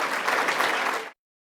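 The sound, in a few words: audience applause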